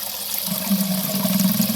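Water trickles and gurgles continuously from a pond filter, with a steady low hum running underneath.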